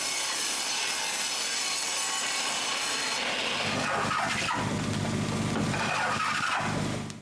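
A wooden ceiling board being cut to width for the last gap in a cabin ceiling, with steady rasping saw noise running the full length, harsher and fuller in the second half.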